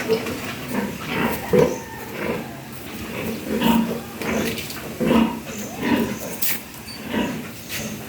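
Pigs on a small Philippine hog farm grunt and oink in short repeated bursts at moderate distance, mixed with background farm noise and some talk.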